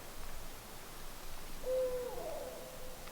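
A hoot owl calls once in the woods at night, a soft drawn-out hoot with a brief wavering tail, distant and faint over steady background hiss.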